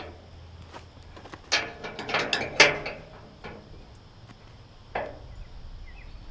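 A wrench ratchets in bursts of quick metallic clicks as bolts are tightened on a bush hog mower, close and fairly faint, with short pauses between strokes.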